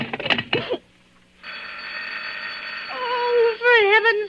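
An old telephone bell rings steadily in a radio drama. The buzzing tone holds for a couple of seconds after a woman's brief speech, then a wavering tone rises over it, with the sound close and clear.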